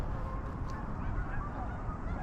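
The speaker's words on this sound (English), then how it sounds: "Even the geese have just got up and getting ready to go, head out for the day." Geese honk in the early morning outdoors during a Chinook wind in Calgary, a continuous loud blustery background with overlapping honks mixed into it.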